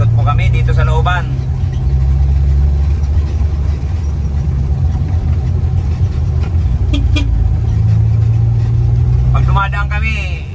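A restored Mini Cooper runs with a steady low engine drone and road rumble from inside the car as it circles an inner neighborhood, with people talking over it at the start and end.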